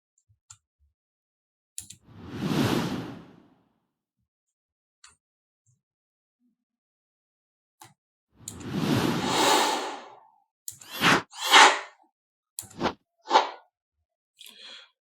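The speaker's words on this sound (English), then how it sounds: "either a whoosh or a swoosh sound" Several whoosh and swoosh sound effects play one after another, separated by silence: two long airy sweeps followed by a cluster of short sharp swishes, loud and close with nothing else present.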